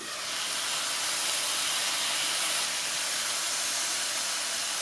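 Pork chops sizzle on the grill plate of an Aroma Housewares ASP 137 3-quart 3-in-1 Super Pot, a steady broadband hiss like escaping steam that holds near and fairly loud throughout with no talking.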